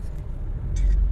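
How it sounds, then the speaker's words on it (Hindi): Road traffic passes near a camp at Sissu helipad, a steady low rumble of vehicles that swells toward the end, with no talking. "काफ़ी ट्रैफिक आ रहा है अब।"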